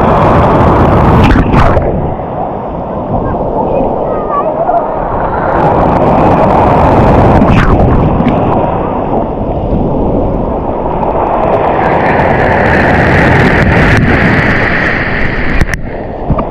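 Larger sea waves crash and churn on Lazarevskoye beach in Sochi, a loud, continuous close-up roar of surf with wind buffeting, swelling in heavier surges.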